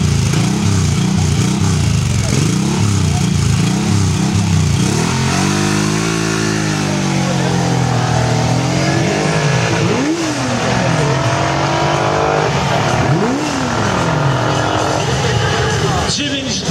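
A white Suzuki chopper engine, 1783 cc, revs and races at high pitch during a race in Cieszyn, rising and falling as it accelerates, loud and continuous with a crowd and talk underneath.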